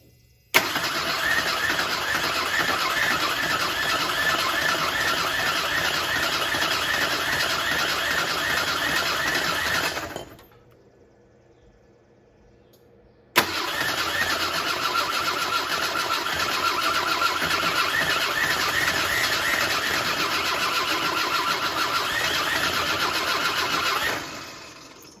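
A Ford Mustang SVO turbo engine cranks on its first start-up attempt: a long, steady starter whir of about ten seconds, a short pause, then a second equally long cranking run, close and loud with no voices.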